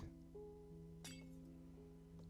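A glass block set down in the Minecraft video game gives a single short, bright clink near the middle, heard over steady background music.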